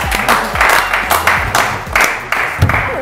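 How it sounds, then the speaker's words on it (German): A studio audience applauds podcast guests, loud close clapping in bursts with voices mixed in. "Applaus."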